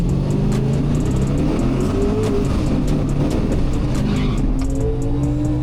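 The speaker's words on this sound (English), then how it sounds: "You do your burnout. It says light them up." A turbocharged junkyard 5.3 race car doing a burnout, the engine held at a loud, constant high rev with tire roar throughout, close by and without speech.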